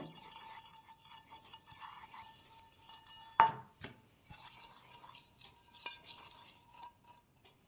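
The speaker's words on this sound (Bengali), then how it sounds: "দিয়ে দেবো নুন দিয়েটা ভালো করে মাখিয়ে নেব" Eggs being stirred with refined oil and salt in a bowl, a soft steady mixing scrape running throughout with one sharp clink of utensil against the bowl midway, fairly quiet and close.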